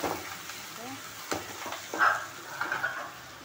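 Onion, green chili and curry leaves frying in a pan give a soft sizzle, broken by several sharp scraping strokes as they are stirred, fairly close and without talk.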